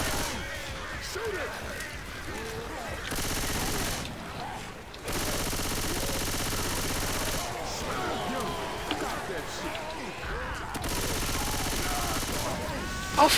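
Gunfire in a zombie-horde video game, aimed at a tank enemy: long bursts of rapid automatic shooting in several stretches, loud and close, with pauses between them.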